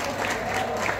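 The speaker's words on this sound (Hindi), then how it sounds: "तो मैं चाहूंगा कि जोरदार तालियों से स्वागत हो।" Brief burst of steady crowd applause at a Bhojpuri music launch event, continuous clapping with faint cheering mixed in.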